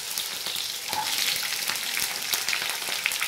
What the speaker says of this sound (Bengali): এবার আমি সবজিগুলো ভেজে নেব।